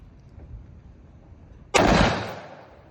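An AR-15 rifle goes off once in a single loud, sharp report, its echo decaying over about a second.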